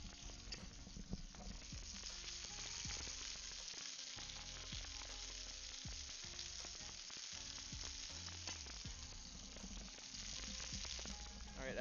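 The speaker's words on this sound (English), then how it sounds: "We got some good sizzling action going on now." Chicken scampi sizzles in a frying pan, a steady dense crackle and hiss with scattered sharp pops, close and constant, no voices over it.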